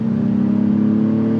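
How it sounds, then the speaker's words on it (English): Honda Passport Touring AWD SUV with a six-cylinder engine accelerating, a steady, fairly loud droning engine note held at an even pitch throughout the short stretch, with no voices. "you can feel the 6-cylinder engine really kick in there"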